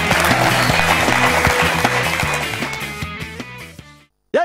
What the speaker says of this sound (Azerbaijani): Sizin alqışlarınızla.